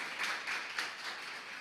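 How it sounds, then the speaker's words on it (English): Applause at a startup demo day event, a soft, diffuse wash of many hands clapping, fairly distant and even throughout the short moment. "Big round of applause"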